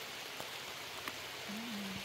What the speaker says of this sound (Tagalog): At inabot na kami ng ulan.